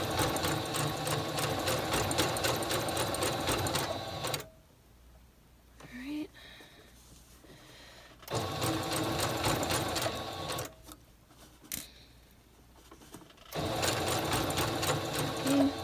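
Sewing machine stitching a blind hem with a plastic guide setting the fold for the needle: three loud, steady runs of rapid close stitching separated by quieter pauses, with a voice speaking in the gaps.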